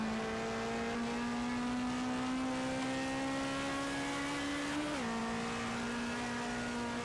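A Simca 1200XS engine in a 1960s racing game at Goodwood, held at a steady high rev at the start, a droning buzz rising slowly and then dipping briefly before it settles again, loud and alone.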